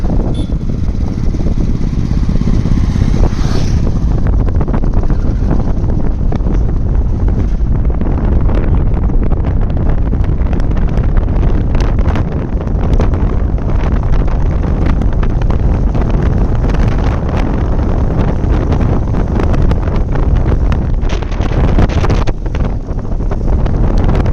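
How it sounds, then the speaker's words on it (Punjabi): Heavy wind buffets the microphone without pause while riding an electric scooter; the ride itself is almost buried under the constant roar. "ਜਾ ਰਹੇ ਆ ਪਿੰਡ ਵੱਲ ਲੈ ਲਈ ਆਪਾਂ ਸਕੂਟਰੀ ਨਿਊ ਇਲੈਕਟ੍ਰਿਕ"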